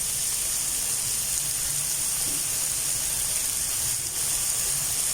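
Soy sauce, four to five spoonfuls, poured into eggs frying in a pan for a Chinese-style biryani, giving a steady, even, broadband sizzle that holds close and constant throughout with no voices.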